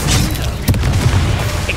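Incendio fire spell cast in Hogwarts Legacy during a duel: a heavy, booming whoosh of flame that swells suddenly and rumbles steadily for nearly two seconds, loud and close, with no voices.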